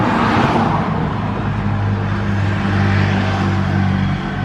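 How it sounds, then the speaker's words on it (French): Cars drive past on a road outside a ground-floor home, a loud, steady roar of traffic with a deep engine hum that stays constant throughout, with no voices. "Ah, mon Dieu, les voitures."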